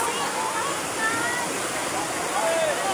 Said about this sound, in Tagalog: kusog na jud ka yung baha